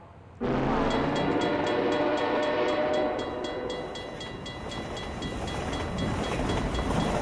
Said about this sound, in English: That's a combine train.